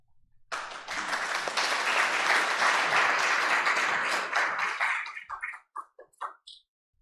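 Audience applause welcoming a guest speaker at a Unitarian Universalist gathering, a dense burst of clapping that swells quickly, holds steady for several seconds, then thins into a few scattered final claps.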